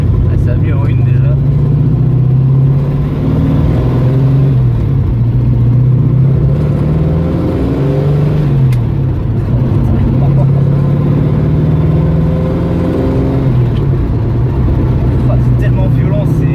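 A 1967 Shelby GT500 tribute car with a 450 hp engine and a manual gearbox revs and accelerates from close up, its loud engine note rising and falling through several pulls, with some talking mixed in.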